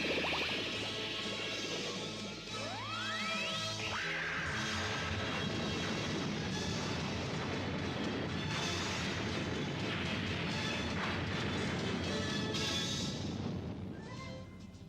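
Cannon firing in an animated Robotech space battle, a dense roaring blast with rising sweeping tones and crashes, loud and sustained throughout under a layered battle soundscape.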